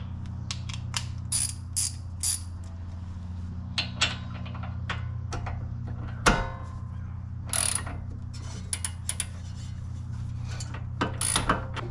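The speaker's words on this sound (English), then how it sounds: "I'm just snugging up the ball joint nut now." Ratchet snugging up the ball joint nut on a 2008 Pontiac G8, giving repeated short bursts of close, crisp clicking over a steady low hum, with no talk.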